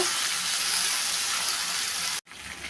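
Okra frying in a pan with green chilli, salt and turmeric, giving a loud, dense, continuous sizzle that breaks off abruptly near the end before resuming.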